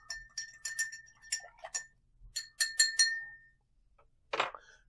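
A whiskey cocktail with cranberry juice is stirred in a mixing glass, giving a run of light, ringing clinks in short irregular bursts, close and fairly quiet, followed by a brief louder clatter.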